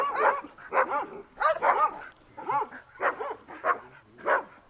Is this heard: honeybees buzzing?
no